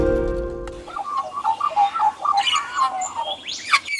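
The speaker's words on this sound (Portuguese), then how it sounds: "Este é o magpie, um dos pássaros mais inteligentes do mundo" A magpie, a member of the crow family, gives a run of harsh, chattering calls in quick irregular bursts, fairly close and clear, after a brief burst of music at the very start.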